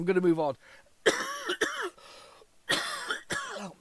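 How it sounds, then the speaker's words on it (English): A harsh, rasping cough bursts out several times between stretches of speech, loud and close to the microphone. "that cough is still really harsh"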